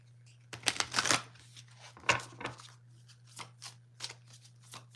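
Tarot cards riffled and drawn from a deck, close-up papery shuffling bursts and flicks in an irregular rhythm over a steady low electrical hum, with no talking.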